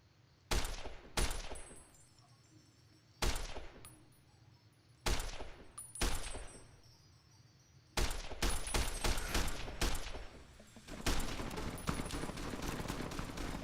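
Video game gunfire in Fallout New Vegas: spaced loud single shots and short bursts, then a rapid dense volley near the end, with no talk over it.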